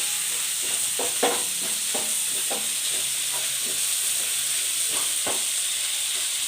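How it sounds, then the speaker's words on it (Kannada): Chopped onions fry on high flame in a pan with a steady sizzle, broken by irregular scraping stir strokes and brief clinks. No voices are heard. "ಈರುಳ್ಳಿ ಒಂದು ಎರಡು ನಿಮಿಷ ಚೆನ್ನಾಗಿ ಫ್ರೈ ಮಾಡ್ತೀನಿ"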